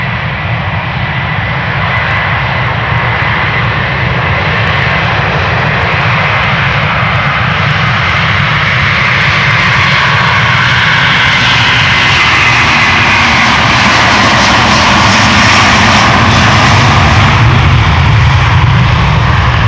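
A Delta Air Lines Airbus A330-300 makes its second takeoff attempt from the Polderbaan at Amsterdam Schiphol, engines spooling into a loud, sustained jet roar with deep low rumble that swells steadily as it accelerates.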